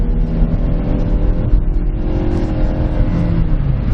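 A 2007 PT Cruiser Touring accelerates hard toward 60 mph, its engine droning loud and steady from inside the cabin with a broad rumble of road noise under it and no voices.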